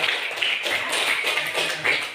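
A classroom of students claps for a classmate who wrote a letter, a brief ragged patter of many hands in quick irregular bursts, moderately close.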